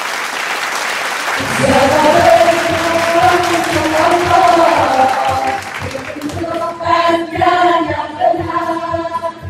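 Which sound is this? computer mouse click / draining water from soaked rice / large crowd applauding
large crowd applauding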